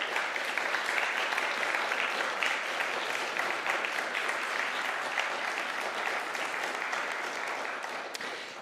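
An audience at an academic masterclass event applauds, with dense, sustained clapping that holds steady for several seconds before starting to fade at the end.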